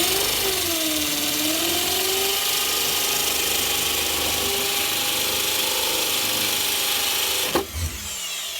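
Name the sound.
hammer drill drilling concrete block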